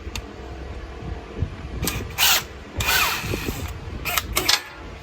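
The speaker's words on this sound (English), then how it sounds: "That's just typical step bit." Short bursts of a power drill with a step bit whining through metal mounting plate, several spaced pulses with ratcheting mechanical noise between them, close by.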